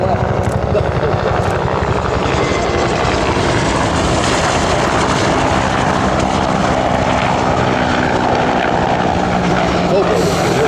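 UH-1 Huey and AH-1 Cobra helicopters fly at the 2012 Joint Base Lewis-McChord air expo, their rotors and engines producing a loud, continuous, thumping roar throughout, with a voice faintly present underneath.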